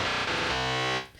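Synthesizer noise with chorus turned all the way up in Ableton, a thick, shimmering, pitched wash that holds steady for about a second, then cuts off.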